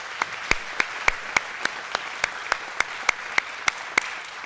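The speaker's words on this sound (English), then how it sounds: "So let's give them a round of applause one more time." At a community wellness event, sparse applause comes as about sixteen sharp, evenly spaced claps, like a lone clapper keeping a steady rhythm. It sounds fairly faint and has no voices over it.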